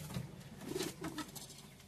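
Madrasi high-flying pigeons in a loft coo softly in a few low, rolling calls, close but quiet, with no talk over them.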